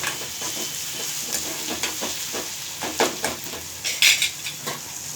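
Two large onions frying on high flame in a pan, a steady sizzle with repeated scraping and clinks of a metal spoon stirring against the pan, close and continuous with no talking.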